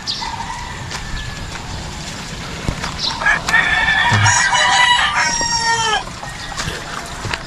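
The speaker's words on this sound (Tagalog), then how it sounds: "Na yung manok, oh." A rooster crows loudly nearby, one long drawn-out call in the middle, with faint clucking and outdoor background noise around it.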